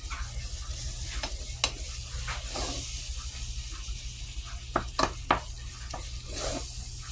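Ground meat browns for chili in a frying pan, giving a steady close sizzle with occasional scraping stir sounds and clicks throughout, no talking.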